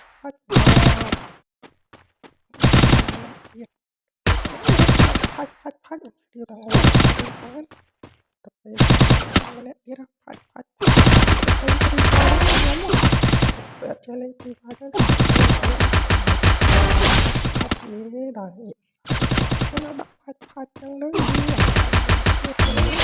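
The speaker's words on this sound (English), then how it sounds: "Press the fire button to shoot when the crosshair changes color." Loud automatic gunfire from the shooting video game Free Fire comes in repeated bursts, some short and some sustained, separated by brief silences.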